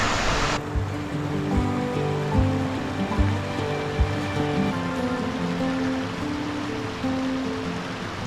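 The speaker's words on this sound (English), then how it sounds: "And then you can hear the water rushing around in the back here." Water of the Severn River rushes steadily past a riverside campsite, a continuous broadband wash with no break and no voices.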